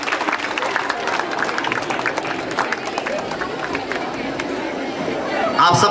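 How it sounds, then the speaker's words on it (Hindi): Loud audience applause and cheering at a school award ceremony, a dense wash of clapping mixed with crowd chatter and babble throughout, swelling slightly at the very end. "आप जोरदार तालियों से अभिनंदन कीजिए"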